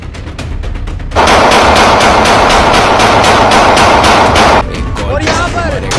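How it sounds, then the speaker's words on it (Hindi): Police firing into the air at a street confrontation in Karachi, a loud sustained burst of rapid gunshots, with scattered single shots before and after and faint crowd voices at the end. "यहाँ पर हवाई फायर कर दिए गए हैं पुलिस वालों की जानिब से"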